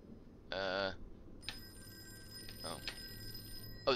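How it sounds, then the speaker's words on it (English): An old telephone rings in the Call of Cthulhu video game, giving one short burst of ringing followed by a longer, fainter electronic tone, close and alone. "You have to turn the radio off to hear the phone ringing."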